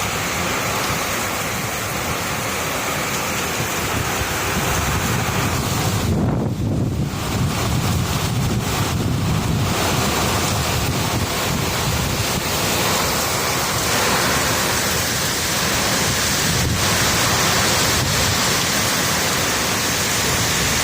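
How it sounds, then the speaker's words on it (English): Strong storm wind under a tornado warning, roaring and buffeting the microphone continuously for about twenty seconds, loud and close with no voices. "the wind's getting worse"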